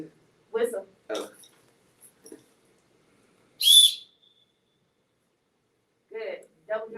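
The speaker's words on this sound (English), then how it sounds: "It'd be this. Whistle." A referee's whistle is blown once for a travel call at a basketball clinic in a gym, a sharp, loud blast in the middle, with people talking before and after it.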